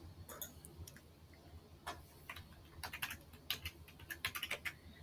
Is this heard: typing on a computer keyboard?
yes